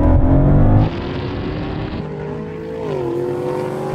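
A Dodge Challenger Hellcat Redeye accelerates in a drag race, a loud engine roar with rising pitch that shifts gear and keeps pulling, heard close and with no talk.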